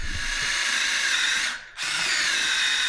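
A power drill bores into a wheel rim lock hole while fitting a ProLock 360 wheel lock system, a loud continuous whine that dips briefly as the trigger eases, then resumes at full speed.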